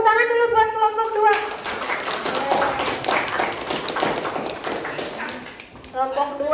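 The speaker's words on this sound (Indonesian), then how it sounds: "Yuk, tepuk tangan dulu buat kelompok 2." A classroom of students applauds a group in a mix of quick close claps and taps, with a speaking voice before and after the clapping.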